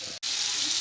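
Tomatoes with carom seeds, cumin, coconut and spices frying in hot oil for a cluster bean curry, a steady close broadband sizzle with one brief dropout near the start.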